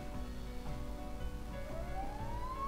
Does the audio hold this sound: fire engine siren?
yes